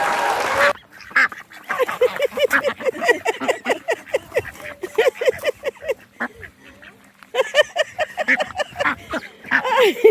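Ducks and geese being fed honk and quack in rapid, overlapping bursts close by. The calls are loud and dense, with a short lull in the middle before the racket picks up again.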